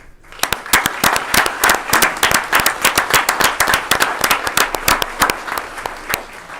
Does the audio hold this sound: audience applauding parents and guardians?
yes